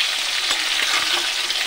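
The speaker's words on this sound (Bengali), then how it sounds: "এবার প্রথমে আমি আলুটাকে ভেজে নিচ্ছি।" Potatoes frying in oil in a pan for a home-style chicken and potato curry, giving a steady, close, bright sizzle that stays even throughout with faint stirring clicks and no talk.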